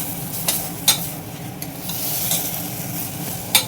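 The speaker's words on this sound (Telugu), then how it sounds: "ఇప్పుడు ఒకసారి గిరగిరా కదపండి" A tempering of asafoetida in hot oil is stirred in a pan, making a steady sizzle up close with a few sharp clinks of the spoon against the metal.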